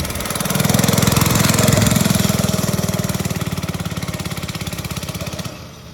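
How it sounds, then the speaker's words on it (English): A 1974 Rupp Herbie Jr. go-kart's small engine chugs steadily at close range, a loud rapid putter that holds for about five seconds before cutting off. "1974 Rupp Herbie Jr. Go-kart"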